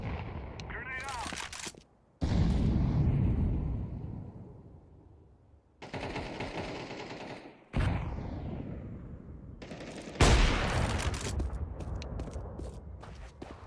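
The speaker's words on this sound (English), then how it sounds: "Throwing a grenade." Loud, booming bursts of gunfire and a grenade blast in a video game shooter, coming in several heavy waves with short quiet gaps between them.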